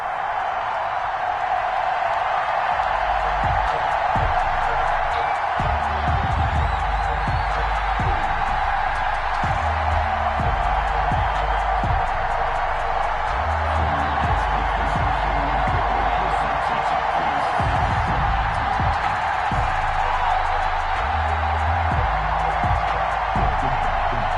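A steady roar from a virtual stadium crowd in an EA Sports football game between the Pittsburgh Steelers and New York Jets, continuous and dense with low thumping beneath, never dropping away.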